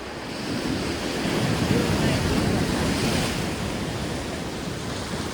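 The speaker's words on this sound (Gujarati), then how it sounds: "આ છે દરિયાની મોજ મિત્રો." Sea waves rolling onto Mastram Dhara beach, a steady broad wash of surf with wind noise buffeting the microphone, loud and continuous with no talking.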